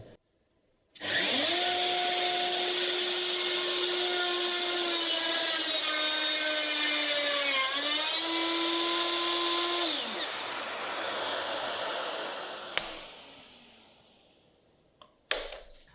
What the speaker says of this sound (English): I've got to drill for my hinges.